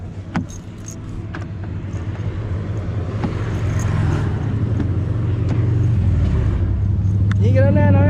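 Traffic drones along a busy road, heard from inside a car. The noise builds gradually into a steady, loud rumble, with a few clicks and knocks.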